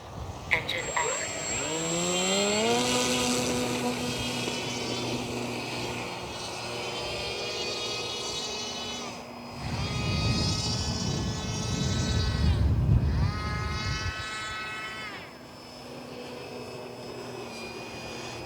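A model airplane's small engine drones and whines as the plane takes off and flies towing drag behind it, pitch rising and falling as it passes, growing louder in two swells; voices speak over it.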